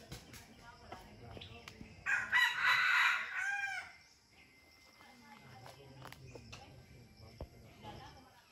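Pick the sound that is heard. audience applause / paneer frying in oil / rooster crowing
rooster crowing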